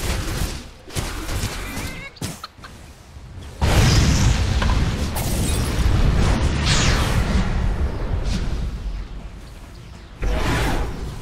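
Dota 2 tower under attack, with booming impacts, whooshes and thuds in dense bursts. Loud barrages swell and fade, and short breaks fall between them.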